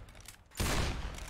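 Gunfire from Left 4 Dead 2 erupts abruptly partway through, a dense, loud burst of shots that overwhelms a quieter, faint opening.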